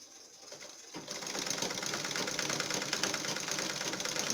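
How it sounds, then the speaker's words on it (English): Sewing machine stitching the seam of a long pencil skirt, starting after a short quiet moment and then running in a fast, steady mechanical chatter, close and even. "So I'll go ahead and sew."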